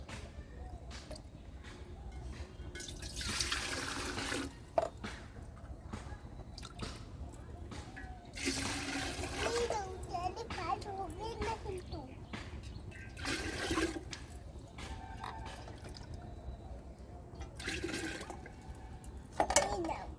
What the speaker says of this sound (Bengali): হাঁড়িতে আমি জল দিয়ে নিচ্ছি, কলের জল।